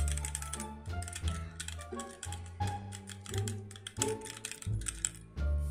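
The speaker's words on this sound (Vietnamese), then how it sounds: "Đây chính là cái bàn phím HyperX Alloy Origins," Fingers type on a HyperX Alloy Origins mechanical keyboard, producing a quick, close, steady stream of crisp key clacks with no voices.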